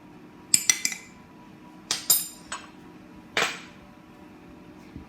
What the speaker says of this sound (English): now we're just going to quickly mix that in with the flour